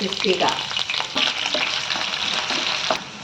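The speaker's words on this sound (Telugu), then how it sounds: "ముందుగా పచ్చి బంగాళదుంపలు ఉన్నాయి కదా, అవి అది వేపించుకోవాలి." Raw potatoes frying in hot oil in a pan, a bright continuous sizzle with a few stirring scrapes, close and fairly loud, no talking.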